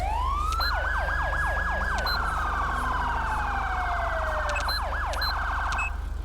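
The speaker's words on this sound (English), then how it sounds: "We do have also the double siren if we need." Two-tone police car siren in a video game, rapid yelp sweeps cycling into a steady alternating wail with a second siren layered on top, loud and continuous, with no talking.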